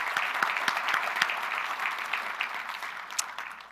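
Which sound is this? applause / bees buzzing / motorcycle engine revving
applause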